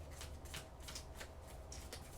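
Tarot cards being shuffled by hand, quiet close riffling in quick repeated bursts with a soft papery flutter throughout.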